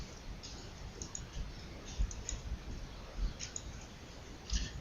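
Computer mouse clicking during drawing work, a steady scatter of faint, close clicks with a few louder ones, and no talking.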